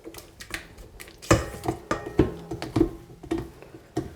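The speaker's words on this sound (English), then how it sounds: "And I'm going to give it one more scrape here." A utensil scrapes and knocks against a mixing bowl while pumpkin pie filling with egg is stirred, giving several sharp clinks and scrapes in an uneven rhythm, close and fairly loud.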